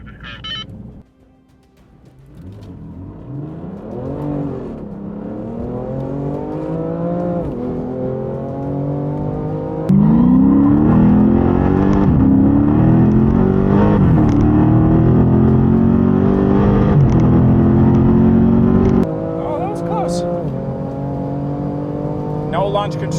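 In-car engine roar during a drag race between a BMW F80 M3 Competition DCT, a Camaro LT1 10-speed automatic and a Challenger 392 T/A 8-speed automatic, loud and sustained, with rising pitch sweeps through repeated gear changes under full acceleration.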